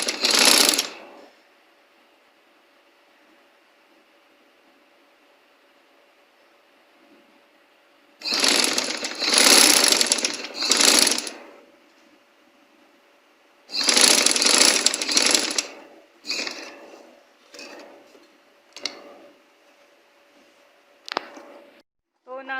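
A sewing machine stitching trouser fabric runs in short rapid bursts, a fast mechanical needle clatter starting and stopping several times with quiet pauses between, close and fairly loud.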